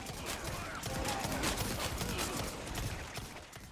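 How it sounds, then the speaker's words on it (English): Dense, rapid handgun fire tearing through a mob of enemies in Resident Evil 4 Remake, shots blurring into a continuous crackling barrage, loud and close with game sound layered underneath. "we're just going to shoot through this mob of enemies to showcase the bullet penetration"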